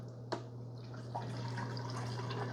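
Vinegar pours into the water tank of a Breville Grind & Brew coffee maker, a soft steady trickle with a small splash at the start, faint and close against a low electrical hum.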